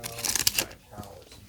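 Quick riffle of Aetherdrift trading cards being shuffled, a crisp burst of flicking that fades out, with a faint voice nearby.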